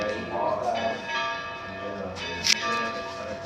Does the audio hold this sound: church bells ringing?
yes